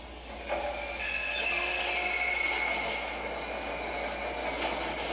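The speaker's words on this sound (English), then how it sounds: "Replacing damaged tram car." A tram car in the video game Dead Space rumbles and whines steadily with high metallic squeals and clanks, a continuous mechanical drone with no voices.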